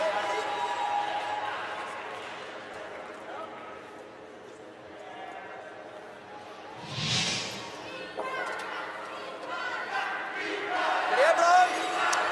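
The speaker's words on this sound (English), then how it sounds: "Crowd urging their team on." Spectators at a wheelchair curling match between Italy and Norway in Milano, a mixed team round robin game, cheer and call out to urge their team on, a sustained crowd swell rising in the middle and again at the end, with a commentator talking over it.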